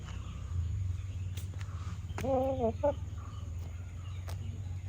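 A household rooster lets out one short crow in the middle, moderately close, against a steady low hum and a few light knocks.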